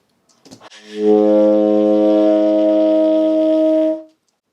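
A saxophone plays a single sustained low note with a pinched embouchure, a buzzy and slightly strained reed tone held steadily for about three seconds before cutting off cleanly.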